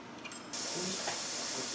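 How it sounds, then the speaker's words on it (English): Steam hisses steadily from the vent of a pressure canner before the 15-pound weight goes on, a loud continuous broadband rush that starts abruptly and holds without a break. "We've been blowing steam out of our hole for 10 minutes, so we'll go ahead and put our weight on at 15 pounds."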